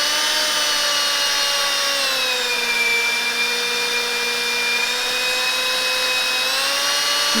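A power drill whines steadily and loudly for several seconds without pause while boring holes into a Porsche body panel, its pitch dipping slightly under load, with no voices.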